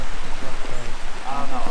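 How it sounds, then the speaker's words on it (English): Little Elk Creek runs over small cascades and waterfalls, a steady close rushing wash of water with voices faintly under it. "It's got water flowing in it, little cascades and waterfalls around it."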